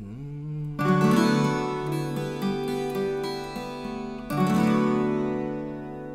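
Viola caipira playing a song: close, bright strummed chords ringing with sustained resonance, a sharp attack near the start and another strong strum toward the end, with no voice.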